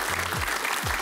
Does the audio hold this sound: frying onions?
no